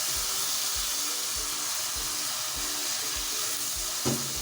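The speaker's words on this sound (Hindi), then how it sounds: "अब हम इसमें ऐड करेंगे दूध। थोड़ा सा दूध हमने अभी इसमें ऐड किया है।" Milk poured over roasted vermicelli sizzles loudly and steadily in the pan, a dense close hiss with a rhythmic low bubbling pulse and one brief clink near the end.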